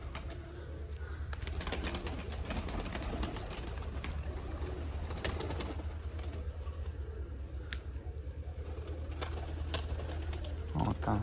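Pigeons coo softly and repeatedly in a loft, with occasional wing flutters and sharp taps, under a steady outdoor background and some human talk.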